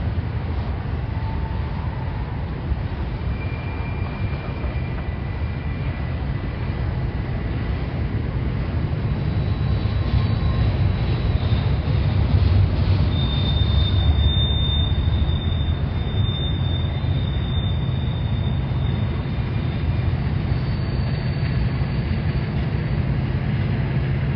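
A freight train with SD70 locomotives rolls past at Cajon Junction with a steady, heavy rumble and roar that holds for the whole stretch, with faint high wheel squeals now and then.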